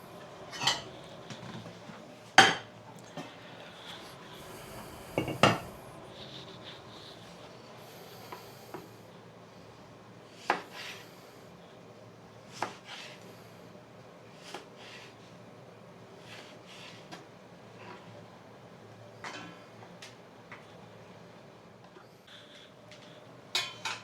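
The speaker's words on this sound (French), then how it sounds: "on va émincer en forme de bâtonnet les écorces d'orange sur à peu près un demi-centimètre" Knife cutting orange peels into thin half-centimetre sticks on a board, quiet repeated taps and sharp knocks at irregular intervals, close and soft over a faint background hiss.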